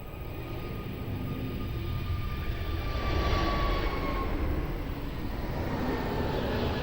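A jet airplane roars steadily on its takeoff run at Lisbon Airport, a broad sustained rumble with a rising whine, heard from a distance with no voices.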